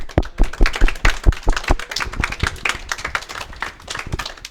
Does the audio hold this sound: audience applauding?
yes